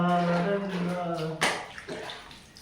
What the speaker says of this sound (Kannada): ಈಗ ಚೆನ್ನಾಗಿ ಸ್ನಾನ ಮಾಡ್ಸ್ಕೊತ ಇದು.